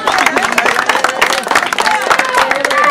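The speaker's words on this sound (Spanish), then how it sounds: "¡Fuerte el aplauso para el caballo de la gente Agarrame!" Crowd clapping for a racehorse at the La Guardia track in Santa Fe, dense close applause mixed with cheering voices and an announcer talking over it.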